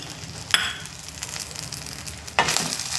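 Red chillies and curry leaves fry in a pan with a steady low sizzle, while two sharper bursts of stirring scrape and crackle close by.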